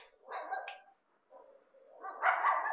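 Dog barking indoors in a room during a gaming session, two clusters of sharp barks and yips separated by a brief pause, close and moderately loud.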